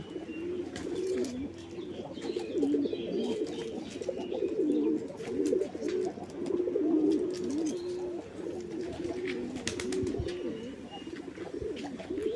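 A flock of pigeons coos continuously in low, rolling, overlapping calls, close and fairly loud, with a few higher chirps scattered through the steady murmur.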